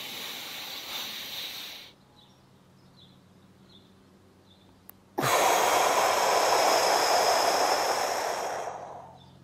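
A person does a slow breathing exercise: a long audible inhale, a quiet pause while holding the breath, then a long, loud, airy exhale that gradually fades.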